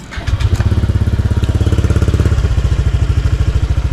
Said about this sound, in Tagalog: So yun mga kaalpa, start na natin yung engine natin.